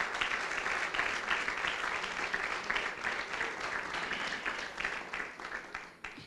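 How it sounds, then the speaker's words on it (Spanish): A church congregation claps during a sermon, a fairly faint but continuous crowd patter of many hands that thins out near the end, with no clear speech over it. "aplauda al Señor"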